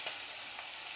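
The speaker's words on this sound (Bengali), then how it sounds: "পেঁয়াজ মরিচটা ভাজা হয়ে আসছে।" Onion and chili frying in a pan give a steady, faint, fine sizzling hiss through a short moment, close and alone.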